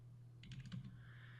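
A short, quiet burst of several keystrokes on a computer keyboard, about half a second of tapping over a steady low hum.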